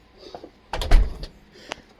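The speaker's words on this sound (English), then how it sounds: "Let me close the door." A door is closed, with a brief clunk and rattle of the latch catching, a couple of light knocks after it, heard close and alone.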